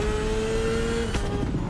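BMW S1000RR superbike engine in the racing game The Crew Motorfest: a steady, loud high-pitched whine that holds a constant tone, then shifts slightly near the end with a brief burst of noise.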